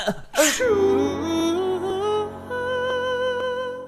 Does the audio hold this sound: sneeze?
yes